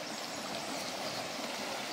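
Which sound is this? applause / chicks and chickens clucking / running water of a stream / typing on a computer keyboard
running water of a stream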